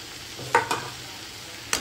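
Pre-fried potatoes being stirred into a banana flower curry in a pan: a few quick, close scraping stir strokes over a faint, steady low sizzle.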